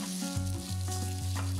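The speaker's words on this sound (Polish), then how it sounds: "Następnie podsmażam cebulę na rozgrzanym oleju i dodaję mięso." Diced onion and pork sizzle in hot oil in a pot for goulash, a continuous close frying hiss with a low hum beneath and no talking.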